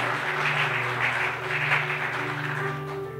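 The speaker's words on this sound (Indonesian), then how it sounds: "Tepuk tangan bagi Allah kita, saudara." Applause from a church congregation in Indonesia, a steady dense wash of clapping with a low hum of music or organ under it, moderately loud and continuous.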